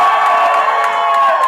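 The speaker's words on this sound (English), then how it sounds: "So we're gonna hear like some screams again." A crowd at a dancehall event screams and cheers loudly, a dense sustained roar of shrieks and whoops filling the space without a break.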